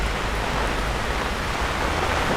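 Dense, even hiss of rain falling on a Manhattan street in New York City during a summer walk toward Chinatown, close and continuous with no distinct drops or voices.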